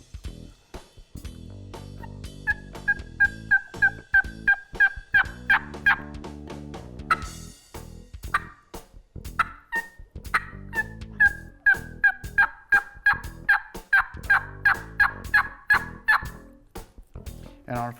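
A hunter imitates wild turkey hen yelps on a mouth call, playing long, loud, rhythmic runs of sharp yelps in two close sequences.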